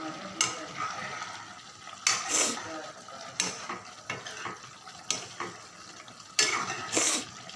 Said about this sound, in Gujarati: હવે આપણે ચેક કરી લઈએ, એકવાર હલાવી લઈએ